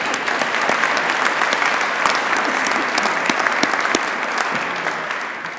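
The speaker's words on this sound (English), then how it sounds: "So let's give that a round of applause" A crowd at a fire station grand opening breaks into a round of applause, loud and dense clapping with sharp individual hand claps close by, sustained throughout with a slight fade near the end.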